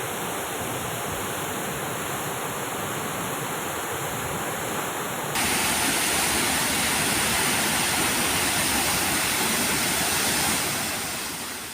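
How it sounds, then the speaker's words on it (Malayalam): Water gushes hard through a crack in a check dam wall beside the bund near Bhoothathankettu on the Periyar, a steady loud roar that grows stronger and fuller partway through, with no voices. "ജലം വൻതോതിൽ പുറത്തേക്ക് കുത്തിയൊഴിച്ചു"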